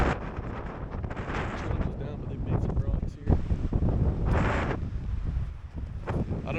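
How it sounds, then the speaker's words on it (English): Strong prairie wind buffets the microphone beside a lake, a steady roar that swells in gusts, with a brief voice breaking in partway through. "It is windy though."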